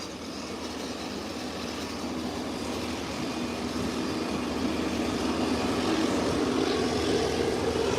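A Southwest airliner taxis at an airport, its steady jet engine roar droning continuously and building slightly louder toward the end, with no voices.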